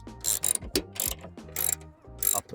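A ratchet driving a T27 Torx bit loosens a panoramic sunroof screw on a Mercedes W212 E-Class, producing several close, loud bursts of rapid metallic clicking separated by short pauses.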